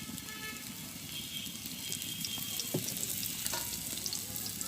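Sliced onion frying in oil in a village kitchen pan, a soft, steady sizzle that stays faint and even throughout, with no one speaking.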